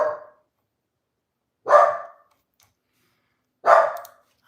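A dachshund barks at a big brown delivery truck, three loud, separate barks spaced about two seconds apart, close by, with silence between them.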